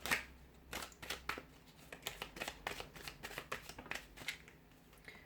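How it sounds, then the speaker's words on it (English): Tarot cards shuffled by hand, a quick run of soft crisp riffling flicks and slaps close by and quiet, with no talk. "So we'll give the cards a shuffle and see what's coming up."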